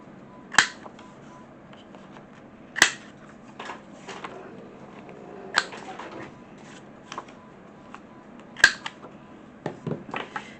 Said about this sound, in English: I am going to use the corner rounder and round all 4 corners